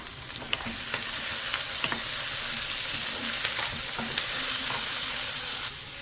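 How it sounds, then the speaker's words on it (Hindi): Tomatoes fry in a pan with a constant hissing sizzle, while occasional light clicks and scrapes of stirring sound close by throughout, with no talking. "और फ्रेंड्स अब इसमें मैं टमाटर डालूंगी, और ये मैंने टमाटर डाल दिए।"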